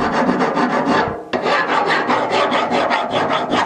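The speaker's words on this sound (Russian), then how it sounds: "Берешь напильник и подгоняешь." A hand file rasps back and forth over a metal part being fitted during a wheelbarrow bearing replacement, loud close strokes in a steady rhythm with a brief pause partway through, no voices.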